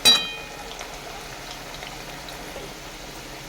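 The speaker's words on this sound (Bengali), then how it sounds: "এভাবে আলুগুলো আমি লাল লাল করে পুরো একদম ভেজে নেবো" Potatoes deep-frying in hot oil, a continuous soft bubbling hiss that stays even throughout after a brief louder clatter at the start, close up with nobody speaking.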